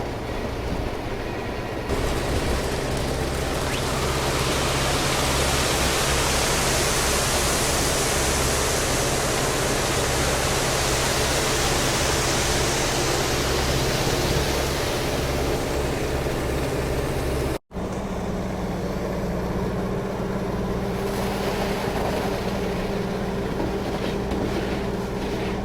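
Concrete truck pouring a front footer on a muddy site, a loud, broad, continuous rushing roar that cuts out for a moment and then resumes, with no voices.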